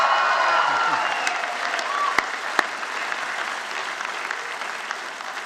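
A convocation audience at a School of Justice and Wellness ceremony breaks into loud, sustained applause that fills the hall, with a few sharp claps standing out and scattered voices mixed in.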